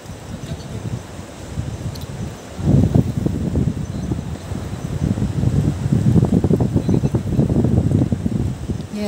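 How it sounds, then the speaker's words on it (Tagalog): Strong wind blows by the sea, a rough rumbling gust noise that buffets the microphone and swells louder partway through, with no voices. "Yan, medyo malakas na yung hangin."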